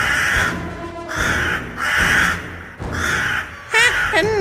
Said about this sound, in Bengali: কাকেরা বাচ্চাটার দিকে চেয়ে চিৎকার করে উঠল।